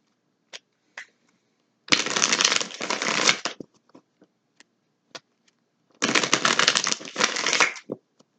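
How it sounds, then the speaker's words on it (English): Tarot cards are shuffled in two loud, close riffling bursts, each about two seconds long, with scattered taps and card handling between them. "I'm going to shuffle for the moon first. I'll put this on top so I can shuffle."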